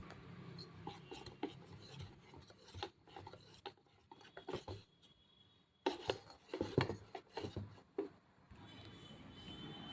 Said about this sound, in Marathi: पाव चमचा हळद घालून मिश्रण पुन्हा आपण फेटून घेऊ.